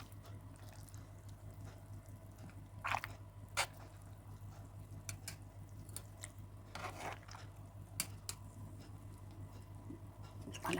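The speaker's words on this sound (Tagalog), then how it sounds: "Tapos yung juices, tumutulo dun sa ilalim, sa isang kaldero." Strawberry juice drips from mashed berries into a cooking pot below in a home kitchen, with sparse soft drips and squishy wet taps over a steady low hum.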